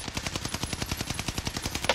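Rapid automatic gunfire from the ARMAGUERRA 43 rifle in Call of Duty Warzone on Rebirth Island, a steady burst of about twenty quick, evenly spaced shots, loud and close with no talking.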